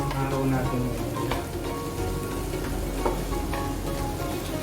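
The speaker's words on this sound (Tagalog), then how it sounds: "stir fry lang natin siya" Egg fried rice is stir-fried in a pan with a steady, close sizzle, broken by scattered clicks of stirring against the pan, with faint tonal sounds underneath.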